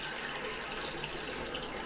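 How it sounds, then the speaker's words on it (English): Hot and cold taps run together into a plugged household sink, giving a steady, even rush of water that holds at the same level throughout, with no voices. "we run the hot water, we run the cold water."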